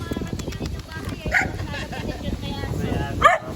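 Several pet dogs bark and yip at a birthday outreach gathering, with short sharp barks and a whimper rising over steady background chatter of people talking nearby.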